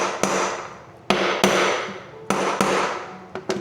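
Hammer blows driving a washer bearing into a Samsung washing machine tub: five or six sharp metallic strikes at uneven intervals, each ringing and decaying, loud and close with no talk.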